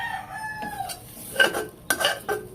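A spoon or spatula stirs food in an old, well-used kawali (wok) at home, with a few scraping, clattering strokes against the metal pan, fairly close; a rooster crows faintly in the background.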